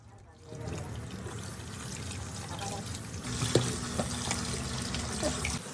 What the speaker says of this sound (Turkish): Almış olduğumuz şeftalileri güzel bir şekilde dış kabuklarını bir su yardımıyla yıkadıktan sonra